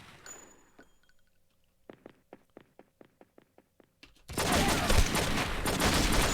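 Gunfire in the video game True Crime: New York City, a quick run of about ten evenly spaced sharp shots indoors, followed by a sudden loud burst of dense noise.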